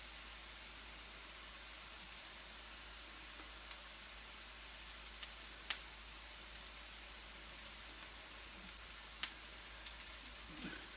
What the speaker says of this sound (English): I can hear some lovely dry snapping sounds happening in the pan